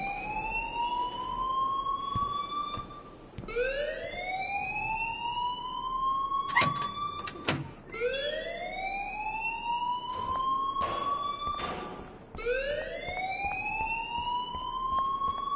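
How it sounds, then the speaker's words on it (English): An electronic alarm in the video game Life is Strange wails in repeated rising sweeps, four loud cycles roughly every four seconds, with a few sharp clanks in between. "please turn off that alarm since that's your job"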